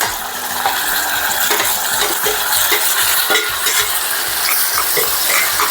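Onion, smashed brinjal and tomato fry in a pan while being stirred, giving a steady close sizzle with repeated scraping and clinking strokes of a utensil against the pan.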